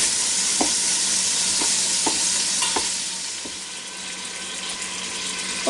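Ground beef sizzling in a Ninja Foodi Deluxe pressure cooker, a loud, steady frying hiss with occasional light scraping taps of a stirring utensil, close up and without voices.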